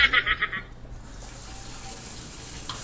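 A shower runs in a bathroom, a loud rhythmic spray at first that is cut off within a second, leaving a faint steady hiss and a soft room murmur.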